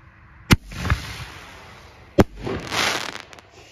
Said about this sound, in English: we got the last scatter bomb being loaded up here.